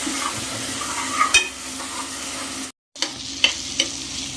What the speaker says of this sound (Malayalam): അപ്പം നമ്മുടെ പഴം നെയ്യിൽ കുറച്ച് നേരമായി ഇതിനെ അങ്ങനെ ഇളക്കിക്കൊണ്ടിരിക്കുന്നു